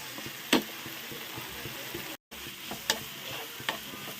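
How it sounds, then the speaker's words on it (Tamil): Chapati cooking on a hot pan, a steady faint sizzle with a few sharp taps and scrapes of a utensil at intervals, close by with no talk. "நம்ம சப்பாத்தி போட ஆரம்பிச்சிடலாம்"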